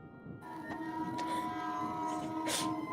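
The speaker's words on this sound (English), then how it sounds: "That's the train. That's the train." Sound effect of a passing train in a tabletop roleplaying murder mystery set aboard a train: a continuous rumbling clatter with tonal squealing and a few sharp hissing bursts, steady and fairly close.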